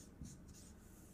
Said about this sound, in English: Let me write this here.